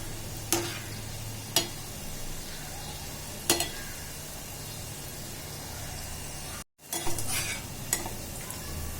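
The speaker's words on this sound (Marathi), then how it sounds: "गोल्डन ब्राऊन होईपर्यंत तळून घ्यायचे आपल्याला गव्हाच्या पिठाचे गुलाबजाम आहे ते" Gulab jamun made from wheat flour fry in hot oil until golden brown, giving a steady, soft sizzle broken by a few sharp clinks from a spoon or utensil and one brief dropout near the end.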